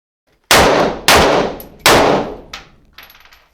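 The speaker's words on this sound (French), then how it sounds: "Il a tiré 3 fois." Loud 7.62 rifle shots fired at a level 4 armor plate from about 25 meters: three sharp, booming reports in quick succession with ringing metallic echo, followed by fainter trailing impacts.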